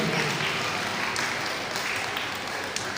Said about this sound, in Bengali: একটা জোরে হাততালি সকলে মিলে একসঙ্গে।